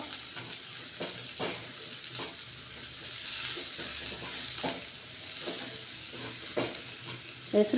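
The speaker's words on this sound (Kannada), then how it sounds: "ಸ್ವಲ್ಪ ಫ್ರೈ ಮಾಡ್ಕೋತಾ ಇದ್ದೀನಿ ಸ್ವಲ್ಪ ಕಂದು ಬಣ್ಣ ಬಂದರೆ ಸಾಕು" Ingredients for a green gram stir-fry sizzle in a pan under a constant hiss, with repeated scraping stirs of a spatula landing every second or so, fairly close and moderately quiet.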